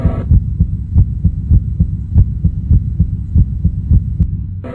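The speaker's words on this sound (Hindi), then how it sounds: "दोनों की धड़कनें बढ़ती जा रही थी।" A heartbeat sound effect for a Hindi horror story thumps loud and steady, with low double beats repeating about every half second over a droning hum.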